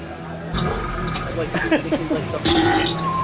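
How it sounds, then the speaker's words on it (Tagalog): A single loud, gurgling burp lets out near the mic during a Seattle sightseeing outing, with people talking around it and a brief clink just before. "Oh, burp."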